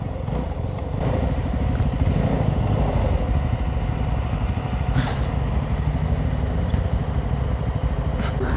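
A 250 cc motorcycle, a Pulsar N250 or CF Moto SR 250, is ridden at night. Its engine drones steadily and loudly throughout, with slight rises in pitch as gears change and no clear pauses.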